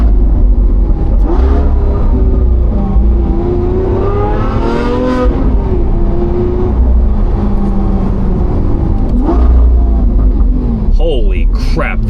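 A Lamborghini Aventador SVJ's V12 exhaust revs and roars continuously while driving, rising and falling in pitch over a heavy rumble, loud and close, with someone speaking over part of it.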